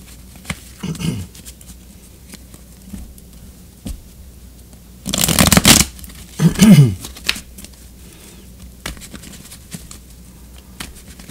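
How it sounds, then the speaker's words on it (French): Tarot cards being shuffled by hand, heard as two short, fairly close riffling bursts in the middle, with near quiet on either side. "je continue à brasser les cartes encore un petit peu"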